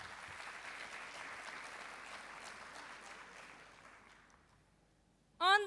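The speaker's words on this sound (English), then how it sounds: "Please give a round of applause for the affirmative team." An audience at a student interprofessional debate claps for the affirmative team, a soft, even patter of applause that thins and fades before a voice speaks.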